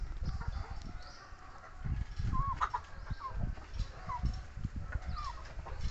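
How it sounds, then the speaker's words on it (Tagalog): A flock of 65 young pullets clucks and chirps in a farm pen, with soft overlapping calls and scratching close by against a low background rumble. "Yan sila, 65 piraso ng mga dumalaga."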